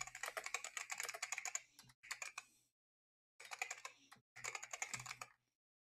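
Close, quiet typing on a computer keyboard, with rapid runs of key clicks broken by a short silence between two bursts.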